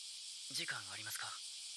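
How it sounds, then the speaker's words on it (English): Crickets in an anime episode make a constant, shrill chorus that runs throughout, with a brief voice rising over it midway. "I don't like these crickets being really loud."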